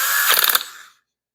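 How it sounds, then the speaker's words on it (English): A small drill bit deburrs the end of an aluminum throttle cable for a Plymouth Hemi Duster, a brief close rattling, grinding whirr lasting under a second, then silence. "It's just deburring that cable."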